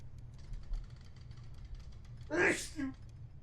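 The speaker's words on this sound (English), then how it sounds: "excuse me while I sneeze" A single close, sharp sneeze bursts out after a low steady hum, followed by a brief vocal sound.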